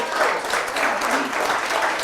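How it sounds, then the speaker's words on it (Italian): Spectators at an amateur football match between Villacidrese and Nuorese clapping sportingly from the stands; a steady, even wash of applause, somewhat distant, with no clear voices. "Anche sportivi applausi da parte del pubblico."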